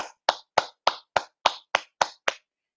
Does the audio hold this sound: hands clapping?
yes